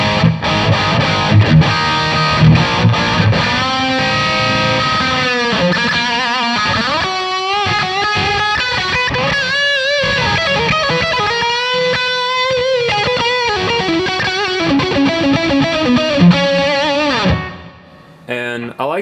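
Distorted electric guitar played through a Kemper Profiling Amp using a Splawn Nitro profile with stereo reverb, sustained chords and melodic lines ringing out loud and continuous before a reverb tail fades at the end.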